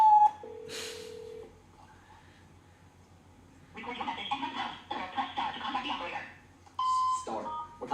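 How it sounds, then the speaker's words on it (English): A telephone is dialed with a series of electronic keypad tones and beeps, some long and steady, others in quick bursts, separated by stretches of quiet, with a noisy buzzing passage in the middle. "Start dialing the phone"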